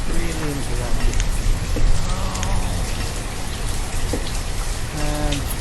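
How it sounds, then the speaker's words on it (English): Steady rain falls in a winter scene of a village-building game, with a constant dense hiss and patter throughout and faint bird calls over it. "And it's raining this winter."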